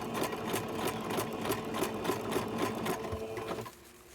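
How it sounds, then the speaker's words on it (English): A sewing machine stitches a sock in a rapid rhythmic whir for about three and a half seconds before stopping, close and fairly quiet. "then I'm gonna start back sewing"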